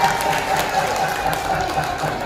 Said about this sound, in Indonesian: Tepuk tangan yang mulia.